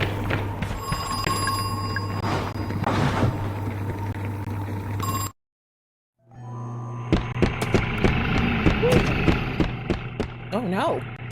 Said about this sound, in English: We're gonna ignore that phone, so I'm sorry if that annoys you.